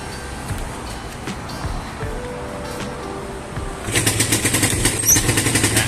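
A Yamaha VR150 motorcycle engine starts up partway through, rising into a steady, rapidly pulsing idle that is close and fairly loud over quieter background noise before it.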